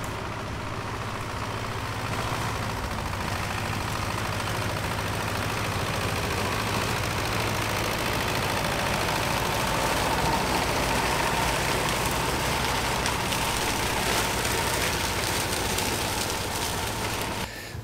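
A tractor mows dense hogweed, its engine droning loud and steady throughout with a broad, continuous rumble and no voices.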